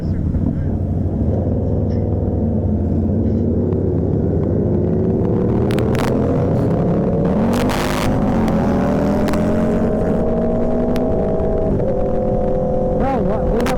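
A motorcycle engine drones steadily while riding, close and loud. Its pitch rises and falls with the throttle, and wind gusts sweep over it.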